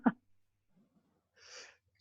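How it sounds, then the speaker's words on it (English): An allergy sneeze bursts out sharply at the start, close and loud, followed after a quiet pause by a breathy, hissing exhale. "I'm going to have an allergy sneeze in a second"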